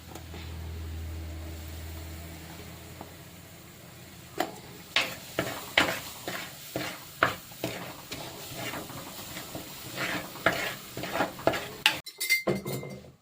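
Turmeric, chilli and coriander powder fry in hot oil in a pan while a spoon scrapes and clinks against the metal in repeated sharp strokes over a soft sizzle. After a quiet start the stirring grows busy, with no talk.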